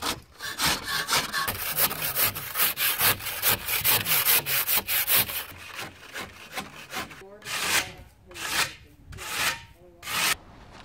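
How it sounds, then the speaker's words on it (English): Hardened aircrete mix is scraped off the tops of forms in a fast run of rough rasping strokes, loud and close, then slowing to a few separate heavier scrapes. "scrape off any of the high spots that was above outside of the forms"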